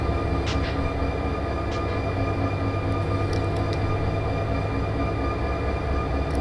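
Continuous rumbling of a train rolling along in the Run8 railroad simulator, a steady, dense low roar with faint high squeaks and clicks, no voices.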